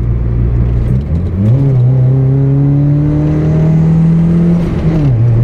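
A car engine accelerates hard in fourth gear on a highway to overtake, a loud, steady rising drone with one dip as the pitch climbs, then easing near the end.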